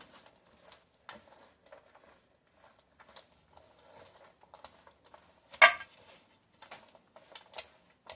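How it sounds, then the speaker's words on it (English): Walnuts being mixed into box cake cookie dough make faint, irregular clicks and soft taps, with one louder knock partway through, close up and otherwise quiet. "A cup of walnuts. And you just mix it in."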